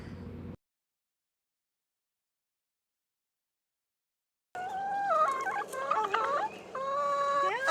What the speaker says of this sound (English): It's feeding time at this chicken coop in Lexington County, and the hens couldn't be happier.